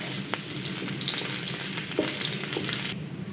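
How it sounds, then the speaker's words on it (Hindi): Two tablespoons of finely chopped garlic fry in hot oil as it browns, giving a steady, close sizzle with light stirring scrapes and no voices. "लहसुन को अच्छे से ब्राउन कर लेंगे।"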